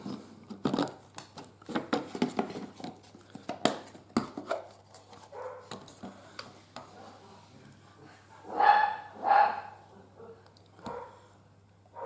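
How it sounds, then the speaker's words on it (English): Dogs bark in two short, loud bursts late on, over quieter tapping and handling noises from a glue-and-screw repair job nearby. "Dogs are going mad."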